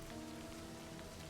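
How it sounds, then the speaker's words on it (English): In the video game Livber: Smoke and Mirrors, rain falls steadily with a soft, even patter, faint and continuous, with a low hum beneath it. "Raindrops splatter on the paper, leaving small wet stains"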